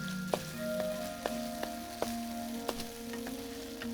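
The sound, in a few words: masala spices sautéing in oil for Bengali fish curry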